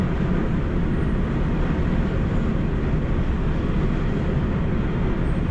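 Steady, rumbling roar of a train moving along the tracks in Belgium, bound for the UK, a continuous low-heavy noise that holds even throughout with no breaks.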